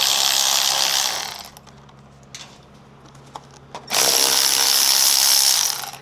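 Power ratchet spinning out 10mm screws and bolts holding the underbody tray on a Lexus LS430, loud buzzing bursts heard close with a quiet gap and small clicks between them.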